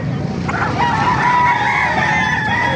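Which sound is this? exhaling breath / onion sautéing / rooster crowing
rooster crowing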